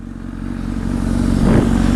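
A motorcycle being ridden: a steady, close engine drone that slowly grows louder, with a brief rise in pitch near the end, under wind noise.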